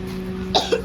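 A person coughs twice in quick succession, a short close burst followed by a second, softer cough, set in a dramatized scene about a two-week cough and tuberculosis.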